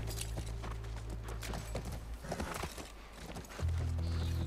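Horse hooves clip-clop at a walk in The Last of Us, scattered irregular thuds over a steady low ambient hum, with a fuller game drone rising near the end.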